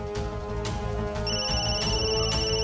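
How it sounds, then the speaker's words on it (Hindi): A mobile phone ringtone rings steadily and fairly loud, a repeating electronic melody pulsing in regular beats with no one speaking over it. "ए फोन तेरा फोन बजा, फोन।"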